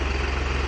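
A new tractor engine idles close by with a steady, low, rhythmic thrum throughout the brief moment.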